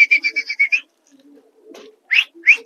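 Racing pigeons on a rooftop loft give a quick run of close, rhythmic coos, then a pause with faint rustling before two more short, rising calls.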